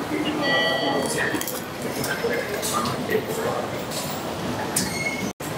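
Busy station ambience inside Tokyo Station, outside the Shinkansen area, with a steady wash of crowd noise, footsteps and faint clinks, plus a low rail rumble throughout and voices talking in the background.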